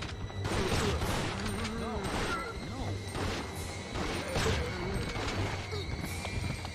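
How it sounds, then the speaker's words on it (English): Repeated shotgun blasts ring out in the Resident Evil Outbreak video game as zombies are fired upon, several loud bursts spaced across a busy, noisy background of game sounds. "I hate when the shotgun just hits one zombie out of like five."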